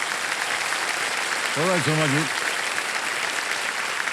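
Studio audience applause on a television quiz show, steady dense clapping that carries on throughout while someone briefly speaks over it partway through.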